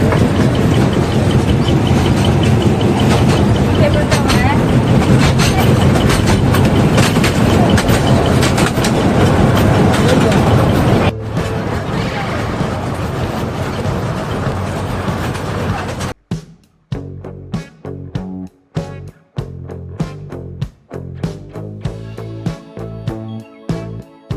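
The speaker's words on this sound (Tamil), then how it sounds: "இந்த தடவை பார்த்தீங்கன்னா டாய் ட்ரெயின் ஒர்க் ஆகிட்டு இருக்கு" A small toy train at Mumbai rumbles and clatters steadily, then slows into a series of rhythmic clanks and knocks before stopping.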